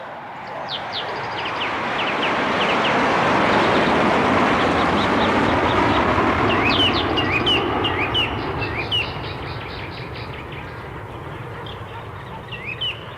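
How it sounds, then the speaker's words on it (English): Recorded birdsong opens a 1974 song, with bright chirps and twittering calls scattered over a swelling, rumbling wash that fades in and settles, the birds growing busier toward the end. "The birds."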